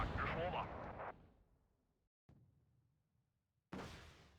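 Artillery and gunfire in the Cold War strategy game Wargame: Red Dragon come as a few heavy booms with long fading rumbles, separated by near-silent gaps, the last burst cut off abruptly.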